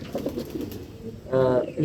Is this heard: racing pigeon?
yes